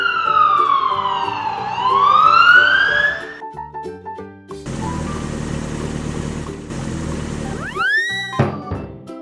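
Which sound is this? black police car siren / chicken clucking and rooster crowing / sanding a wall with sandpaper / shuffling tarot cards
black police car siren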